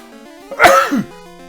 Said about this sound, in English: Well, I'm going to sneeze.